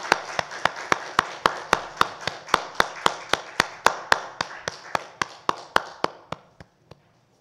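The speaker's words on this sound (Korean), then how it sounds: "하나님께 영광의 박수 올려드립니다." A church congregation at a Sunday service claps in a steady unison rhythm, about two dozen sharp claps that speed up slightly and fade at the end, loud and close.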